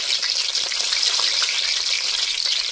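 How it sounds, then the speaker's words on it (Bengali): Water lily flower pakoras frying in mustard oil give a steady, close, bright sizzle with a dense crackle of bubbling throughout. No one speaks. "আমি আজকে এটা সরষের তেল দিয়ে একটাই কারণে ভাজছি"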